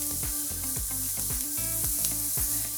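Ground pork sizzles steadily in a hot pan, a close, continuous frying hiss with faint musical tones running underneath and no voice.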